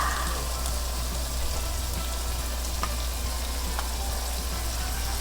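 Garlic, green onion and kimchi stir-fry in a pan with a steady, close crackling sizzle and a few faint clicks from the spatula, with no one talking.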